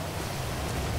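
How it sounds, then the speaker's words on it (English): A rainstorm in the video game GTA 5, heard as a dense, steady hiss of rain at a constant, fairly loud level, with no talk. "It's storming out here."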